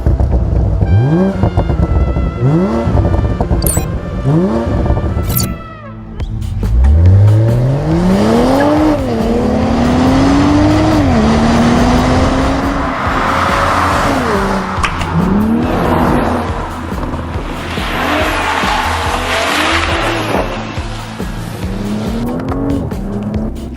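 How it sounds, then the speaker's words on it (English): A BMW 840i Gran Coupe with its B58 turbocharged inline-six revs and accelerates hard through several rising gear pulls, engine note climbing and dropping between shifts with some tire noise, loud and close, with no speech. "This motor, the B58 inline 6 turbocharged motor, is just awesome."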